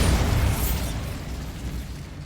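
A Bombarda spell explodes in Hogwarts Legacy as one deep, rumbling blast that swells at the start, then settles into a sustained low roar that fades slowly.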